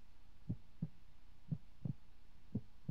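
A steady game heartbeat sound effect from Luna Games in a creepypasta horror museum, low muffled thumps in paired beats repeating evenly over a faint hum, with no voices.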